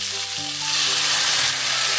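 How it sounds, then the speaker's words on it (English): Cooking wine hits a hot pan of Shanghai-style pork stew and sets off a loud, dense, continuous sizzle that stays steady to the end. A low hum runs underneath, with no speech. "So now you can add some cooking wine."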